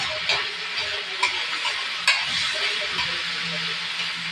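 Pork sisig with oyster sauce is stirred in a hot sizzling pan, giving a steady bright sizzle with scattered scraping clicks of the utensil, close and continuous, with no talking.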